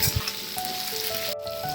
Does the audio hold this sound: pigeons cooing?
no